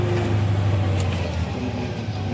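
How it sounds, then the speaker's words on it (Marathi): An old car pulling away on a village road in Konkan, a steady engine drone with low hum, moderately close and continuous, no talk over it. "गाडी गेली ती"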